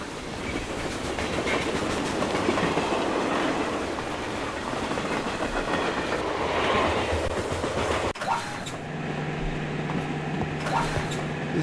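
A moving train in the video game 80 Days rumbles steadily with rolling clickety-clack, then shifts to a quieter cabin-like hum with a steady low tone and occasional brief hiss bursts.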